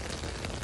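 Rain falling steadily in a garden over silty-clay soil, a dense continuous hiss of drops close by with no talking.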